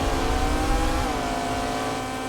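Car engine revving at a race start in the Roblox Drive World game, a loud, steady, droning roar that holds its pitch throughout.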